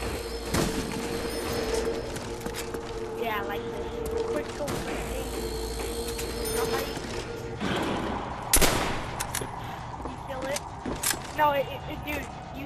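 Shotgun blasts in Black Ops 2 Zombies ring out in sharp, scattered bursts amid game noise and clattering mechanisms, while voices talk over the action.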